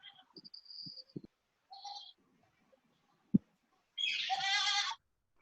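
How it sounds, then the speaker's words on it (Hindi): A goat bleats outside a house, a long wavering bleat near the end after scattered faint thumps, chirps and short calls in a quiet setting, with no talk. "बकरा भी बोल रहा होता है ना इसमें।"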